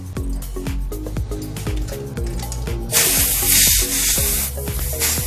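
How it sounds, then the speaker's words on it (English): Air from a compressor rushes into a tubeless bicycle tire being seated on its rim, a loud steady hiss that takes over halfway through, layered over rhythmic background music. "Next thing you're going to want to do is inject some air in there and see if you have any leaks around"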